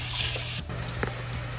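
Ingredients for Singaporean rice fry in a pan, giving a steady, close sizzling hiss over a low hum, with a brief dip and a small spattering burst partway through.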